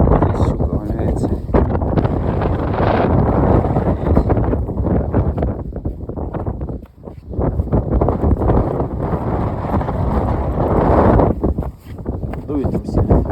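Strong wind blows outdoors during a snowstorm on a fishing trip, a loud, constant roar buffeting the microphone with brief lulls, while someone speaks under it.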